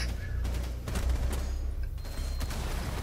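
Rapid gunfire as a full magazine is emptied in Rainbow Six Siege on PS4, a dense, steady stream of shots with mechanical clatter, loud and continuous throughout.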